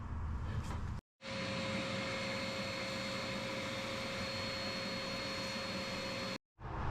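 A vacuum cleaner runs aboard a sailboat while glassed-in chainplates are being removed, giving a loud, steady whine with a sharp tonal hum; it cuts out briefly near the start and again just before the end.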